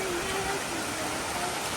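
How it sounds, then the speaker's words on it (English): Small waterfalls at a stop near Hurricane Hill in Olympic National Park, heard as a steady, broad wash of running water that fills the short stretch, with a faint voice or tone drifting under it. "Cute, with a bunch of like little waterfalls."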